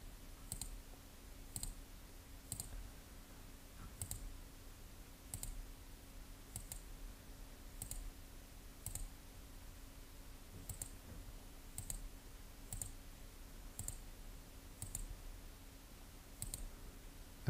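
Computer mouse clicking on nodes in cutting-machine software, sharp single clicks spaced about a second apart, faint and close over a quiet hum with no talking.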